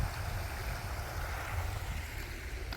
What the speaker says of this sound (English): Beautiful, beautiful creek.